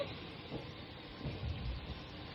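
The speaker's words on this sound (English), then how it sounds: "Sizzle, sizzle." Shrimp coated in Cajun seasoning sizzle in a hot pan, a steady, fairly soft hiss with a few low pops and sputters, and no voices.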